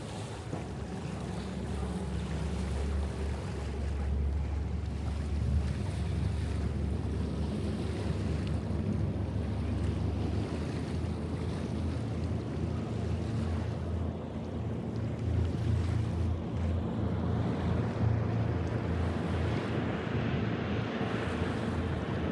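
Open-air sound of the River Thames at Greenwich in London, a steady low rumble of boat engines and water with wind buffeting the microphone, continuous and fairly distant.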